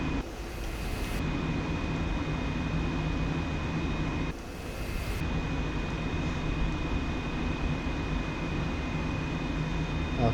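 A Pakistan Air Force F-86F Sabre jet landing, its engine a steady, sustained roar with a constant whine, loud and close throughout, with brief bursts of extra noise.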